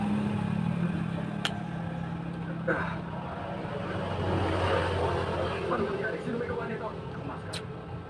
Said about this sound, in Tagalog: medyo maingay kasi nasa highway talaga kami, pero lalabang mga sakyan dyan